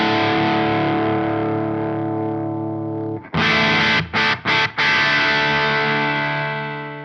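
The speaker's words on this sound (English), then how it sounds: "It's clean, but it's got that little quacky edge of a Marshall." Electric guitar played through The Mutt pedal with a clean Marshall-style tone, sustained chords ringing loud and steady, then briefly cut in a few short stuttered gaps before a reverb-washed tail fades out, with no talking.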